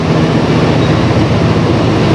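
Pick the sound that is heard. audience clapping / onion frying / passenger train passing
passenger train passing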